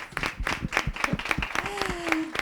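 Applause from an audience at a leadership event, a brisk, uneven patter of clapping hands at moderate loudness, with a few voices and a whistle-like tone rising faintly over it.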